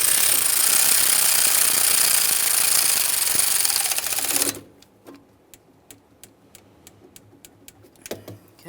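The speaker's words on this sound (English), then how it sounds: "go ahead and start on the mounting nut, snug it up, torque that to 75 inch-pounds." A wrench or power tool runs in a loud continuous rattling burst for about four seconds while tightening the alternator mounting nut on a 1994–2001 Dodge Ram 1500. Quieter ratcheting clicks follow in an even rhythm.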